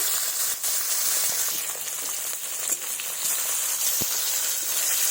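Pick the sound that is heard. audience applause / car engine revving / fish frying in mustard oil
fish frying in mustard oil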